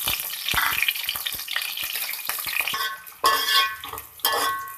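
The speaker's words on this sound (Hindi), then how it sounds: "अब हम कर रहे हैं प्याज को फ्राई।" Chopped onion goes into half a cup of hot cooking oil in a pan, giving a steady, close crackling sizzle with stirring and scraping clatter. Two louder bursts of sizzle rise near the end.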